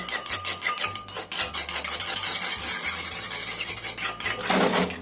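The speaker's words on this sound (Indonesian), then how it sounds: "Kita kocok dulu telurnya ini, biar kuning dan putihnya ini tercampur rata." A single egg is beaten in a bowl, yolk and white worked together. A utensil makes quick, steady, rhythmic clinking strokes against the bowl, close and fairly loud, with no talking.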